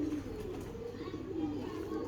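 Pigeons coo softly in low, rolling murmurs that run continuously through the moment, a breeding pair of competition birds kept for flying, with no talk over them.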